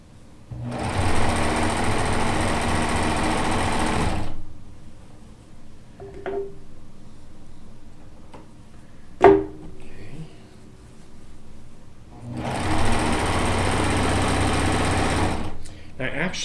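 A Euphoria sewing machine stitches quilt pieces together in two steady bursts of fast, even whirring, separated by a quiet pause with small clicks and handling sounds.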